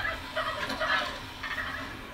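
Turkeys gobble in the video game How to Survive 2, a dense rapid gobbling chorus that runs steadily for about two seconds without talk.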